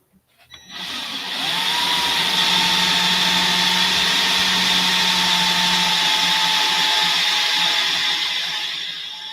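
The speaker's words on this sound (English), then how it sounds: "let's drill an extra hole" A power drill whines steadily while drilling an extra hole in an RC model, starting abruptly and running loud and close for about eight seconds before easing off, with no talking.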